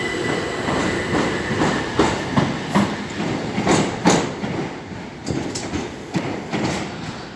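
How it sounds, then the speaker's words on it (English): A train rolls through Gillingham railway station, a steady loud rumble of wheels with repeated clickety-clack rail joint knocks spaced through the passage, close by and unbroken by talk. "Come on, train."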